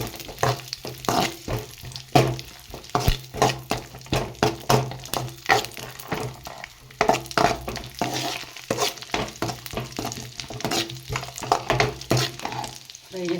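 Ingredients for poha payasam, including raisins, fry in a pan with crackling sizzle and repeated scraping, clattering stirs, close and busy throughout.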